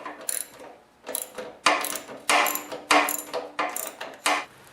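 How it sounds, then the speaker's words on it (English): A hand ratchet with a 1/2-inch socket works a bolt loose on a Murray snowblower, giving repeated bursts of sharp pawl clicking in quick strokes, close and loud. "you want to use your ratchet and your 1/2-inch socket"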